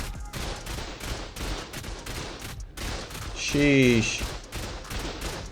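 Several automated turrets in a survival game fire bursts of rapid gunshots, fairly quiet and dense, while a person speaks briefly over the shooting and an electronic tone chirps midway.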